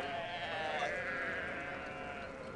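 A flock of sheep bleats in a dense, continuous chorus of overlapping wavering cries, steady and fairly loud throughout.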